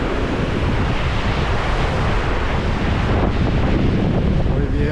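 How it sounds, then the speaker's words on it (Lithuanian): Strong mountain wind on the Tour du Mont Blanc trail roars steadily against the microphone, a loud, continuous broadband rush with gusting buffets throughout and no voices. "Oi vėjas"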